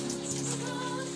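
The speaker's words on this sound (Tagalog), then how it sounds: "Oo, kahit umuulan." Rain falls in a steady, dense patter on nearby surfaces, with a continuous wash and no pauses through the short stretch.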